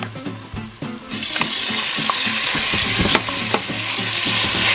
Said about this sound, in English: I'm just gonna saute them until golden brown in color or until brown in color